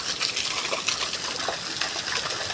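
Water runs steadily from a roadside spring or tap in the Uttarakhand hills, a continuous broadband rush with no talk.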